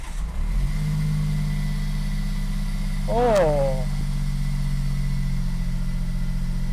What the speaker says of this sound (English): Sounds like that starter motor's on its way out, maybe.